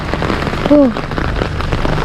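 Heavy rain pours down in the mountains of Tinoc, Ifugao, a loud, dense, steady roar, with a short voice-like tone rising briefly above it.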